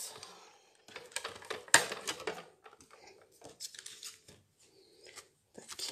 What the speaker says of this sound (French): Et vous venez couper votre étiquette.